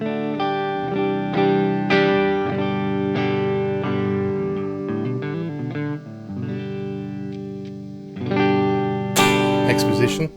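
A clean electric guitar, a vintage Japanese Stratocaster with Seymour Duncan pickups on the neck pickup, plays sustained chords and single notes, warm and rounded, with a brighter strummed flourish near the end.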